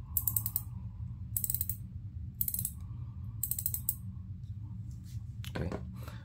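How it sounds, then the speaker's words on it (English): Shimano Vanquish 2500s spinning reel drag clicker ratcheting in four quick bursts of rapid clicks over a low mechanical hum, close but quiet, with a brief knock near the end. "As far as drag clicker wise, I couldn't tell the difference which one's louder."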